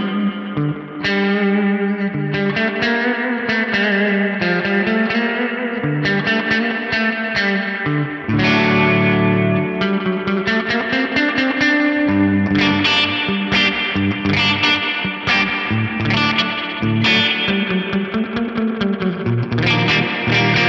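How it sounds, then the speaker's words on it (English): An electric guitar played clean through a Fractal FM3 on a Stereo Shadows multi-head echo preset rings out in chords and notes, with repeating echoes and chorus-like shimmer, loud and continuous with no talking. "preset types inspired by multi-head echoes like this Stereo Shadows"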